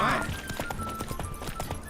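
Roach the horse in The Witcher 3 trots along with a regular, fairly close patter of hoofbeats, set against game ambience and a faint whinny-like tone near the start.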